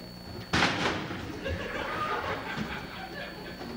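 A single sharp door slam bangs up close, followed by a quiet rustling room tone and faint movement.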